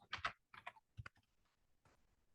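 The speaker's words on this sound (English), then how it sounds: "I'm going to type in birth." A handful of quick keystrokes on a computer keyboard, clustered in short bursts of clicks followed by a fainter press, close and quiet with no speech.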